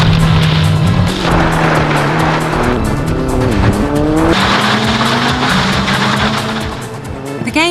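Rally cars in a PlayStation rally video game roar loudly as the engine revs rise and fall through gear changes, and tires squeal and skid in long sliding bursts before the sound fades near the end.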